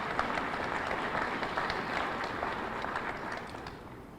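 Steady applause from an audience at a 2025 Jefferson County State of the County address, filling the hall and holding for about four seconds before easing slightly at the end.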